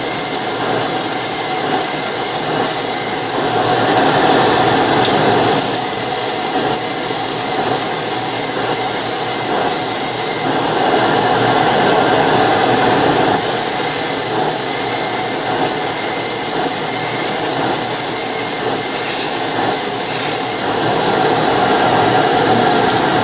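A Paasche H airbrush lays a heavy coat of thinned paint onto a scale model, making a loud, close, steady hiss that stops and restarts in rapid short bursts and longer passes.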